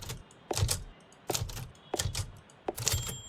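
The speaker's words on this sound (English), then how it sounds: "Another typewriter." An old typewriter in a detective video game clacks in four or five separate bursts of keystrokes spaced about a second apart, crisp and close with no talk.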